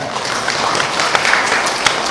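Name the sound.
audience applause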